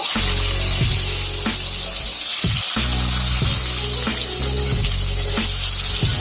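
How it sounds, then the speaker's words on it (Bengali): Pointed gourd (potol) slices, rubbed with turmeric and salt, frying slowly in a covered pan: a loud, dense, continuous sizzle with scattered pops and crackles, and no talking. "পটলগুলো আস্তে আস্তে ভেজে নিব।"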